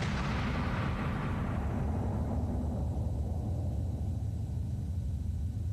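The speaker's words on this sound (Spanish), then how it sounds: "Una explosión increíblemente atronadora." A thunderous blast from a matchlock musket or cannon erupts, its booming roar filling the start then decaying into a long, low rumbling tail, with no voices.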